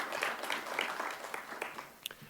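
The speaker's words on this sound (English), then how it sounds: "let's give your families and friends a round of applause" Graduation audience at an emergency services academy applauding families and friends, a crowd of hands clapping steadily at moderate volume, tapering off with a few last claps.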